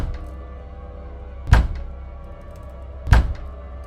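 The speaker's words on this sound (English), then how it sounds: "Large, powerful hands banged on my door" Large, powerful hands bang on a door twice, about one and a half seconds apart. Each blow is a heavy, booming thud, loud and close, over a quiet, low room tone.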